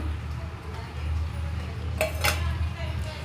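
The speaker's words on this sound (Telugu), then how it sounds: "ఇప్పుడు ఇవన్నీ బాగా కలిసేలా ఒకసారి కేసరిని తిప్పుకున్నాము" A spoon stirs rava kesari in a pan with a soft, steady scraping and two brief metallic clinks near the end, heard close up over low kitchen background noise.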